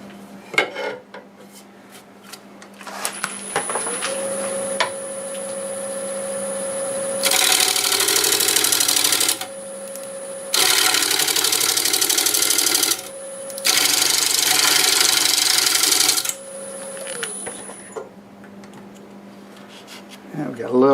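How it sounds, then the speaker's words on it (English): Flat carbide cutter biting into walnut on a wood lathe in three loud bursts of scraping cutting noise over the steady hum of the spinning lathe. "I'm going to use this flat carbide cutter to do it, just to get a line on here"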